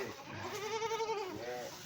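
Goats bleating on a goat farm, several overlapping wavering cries held steady and close, with faint talk underneath.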